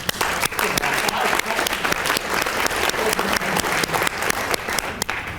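An audience at a presentation applauds in a steady, full burst of clapping that holds at an even level throughout, close and loud.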